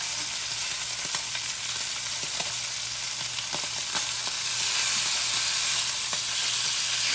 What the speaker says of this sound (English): Frying ham makes a mess, but it sure is good, y'all.